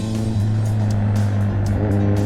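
A Kawasaki Ninja 1000 exhaust drones steadily with a deep, loud rumble that holds throughout, with no speech.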